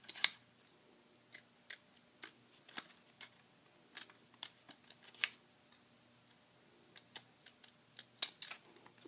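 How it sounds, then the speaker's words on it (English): Scissors snip a paper doily in a long series of short, crisp cuts at an uneven pace, close and quiet, with no talking. "So I'm gonna go ahead and keep cutting my doily."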